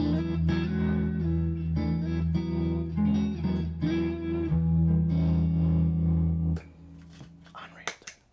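An electric guitar played through Supermoon and VFE Old School pedals rings out in sustained chords with modulation, then stops abruptly and leaves a few faint scrapes and clicks.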